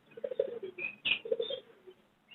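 Pigeons at an outdoor bird market, including Jacobin breeder pairs, coo in a close, steady burst of soft throaty calls with a couple of brighter chirps, loud and clear with no talk.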